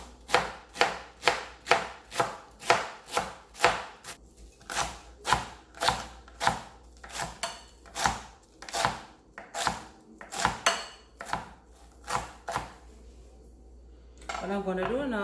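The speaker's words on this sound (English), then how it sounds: "what I'm gonna do is to just cut up my cabbage" A knife chops cabbage on a board in a series of sharp, evenly spaced close thuds that slow and end near the close, with a low steady hum underneath and no voice.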